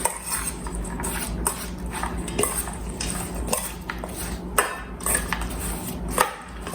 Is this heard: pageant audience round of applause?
no